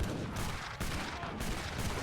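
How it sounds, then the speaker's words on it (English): Heavy cannons fire during a 2v2 battle in a strategy video game, a dense, continuous barrage of booming shots that comes in repeated surges over about two seconds, with no voices. "Heavy cannons get some shots off."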